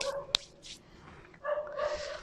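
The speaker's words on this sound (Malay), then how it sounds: "Dan anjing pun sudah mulai bergonggong, ya, bergonggong." A dog barks in an outdoor night setting near an old sacred grave site, a few short yips and barks at moderate distance over faint background hiss, with no talking.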